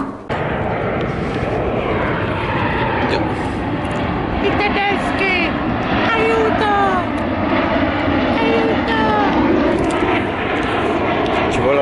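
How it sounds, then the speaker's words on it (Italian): Propeller airplanes passing overhead outdoors during a skills training session, a steady droning engine hum that lasts throughout, with people talking over it. "Ci volano gli aerei sopra la testa."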